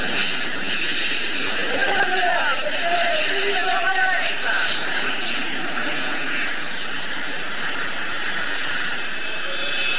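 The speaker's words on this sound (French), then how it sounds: "les Alpha Jets de la patrouille de France se sont posés." Alpha Jets of the Patrouille de France landing at the 1997 Sion airshow. A steady, loud jet engine roar runs throughout, under French commentary.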